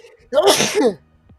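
A single loud, close human sneeze bursts out, a brief sharp breathy explosion, heard alone without talk.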